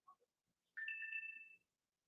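A mobile phone gives one short electronic ring tone, fairly faint, in an otherwise quiet room with no talking.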